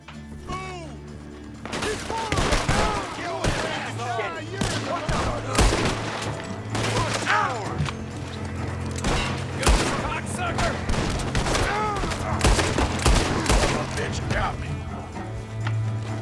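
A shootout rages in Red Dead Redemption 2, with dense, rapid gunshots cracking nearly nonstop, some loud and close, over a steady low game hum, while a voice talks over the fighting.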